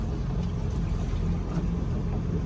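A Yamaha 252 SE twin-engine sport boat shifts into forward gear and begins pulling away, its engines giving a steady low rumble and drone with water wash, close and constant throughout.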